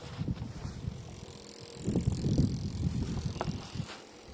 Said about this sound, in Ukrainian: Тут трошки сквозняк, бо є та між хатами вітер